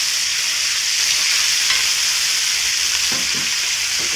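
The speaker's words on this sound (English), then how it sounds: "I'll continue and get these browned on the other side as well" Beef pieces browning in a hot pan for Filipino beef mechado give a loud, steady sizzle and frying hiss that runs without a break from start to end, with a few faint stirring sounds near the end.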